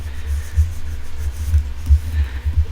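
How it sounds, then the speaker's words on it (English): Folded paper for an accordion-fold junk journal is burnished by hand on a desktop, making soft, close rubbing strokes with low thumping pulses repeating roughly every half second, with no voices. "I'm just going to line it up like that."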